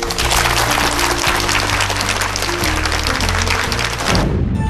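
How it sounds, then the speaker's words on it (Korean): Studio audience at a televised lecture on evolution applauds in thanks to the lecturer, a loud, dense, sustained wash of clapping that continues steadily and cuts off near the end. "장대익 교수님께 감사의 박수 드리면서"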